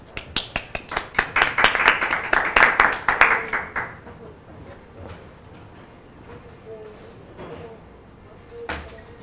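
An audience at a lecture on deaf education and sign language bursts into quick, sharp hand claps that swell for a few seconds, then fade into scattered claps and quiet room noise.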